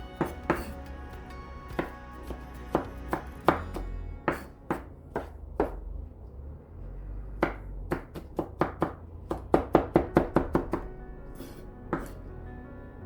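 A knife chops through cabbage on a board, about thirty sharp, close chops coming in irregular bursts with short pauses, loud and alone without talk.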